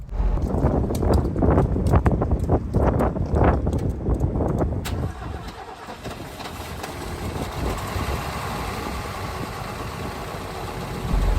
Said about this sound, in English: I'm going to start up the car, and then I'll handhold the camera